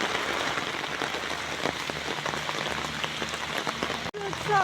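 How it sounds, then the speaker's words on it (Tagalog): Heavy rain pours down in a dense, steady hiss of close drops drumming on surfaces, with a brief dropout near the end. "Oh, wow, kusog ang ulan."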